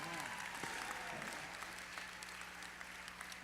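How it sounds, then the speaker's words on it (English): Audience applause at a charity auction program, steady clapping from a room of people sustained throughout, moderately distant, with a voice speaking over it. "You guys were a good applause section."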